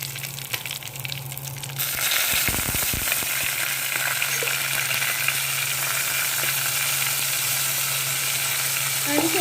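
Vinegar-soaked chilies and curry leaves drop into hot oil in a frying pan, setting off a sudden loud, steady sizzle that carries on without pause after a quieter opening moment.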